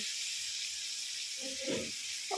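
Loitta (Bombay duck) fish being added to hot oil in a home Bengali kitchen, giving a steady close hiss of frying with a brief louder crackling burst as the pieces go in, and no talk.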